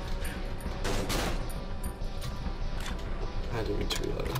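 Pistol shots in the survival horror video game Cry of Fear ring out as a rapid run of sharp cracks over steady background noise, close and loud.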